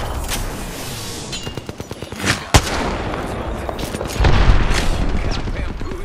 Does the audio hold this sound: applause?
no